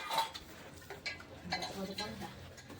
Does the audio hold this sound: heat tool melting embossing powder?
no